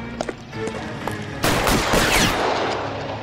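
Gunfire in LA Noire: a few scattered pistol shots first, then a sudden loud burst of rapid automatic fire that rings on and fades, close and sharp, with no talking.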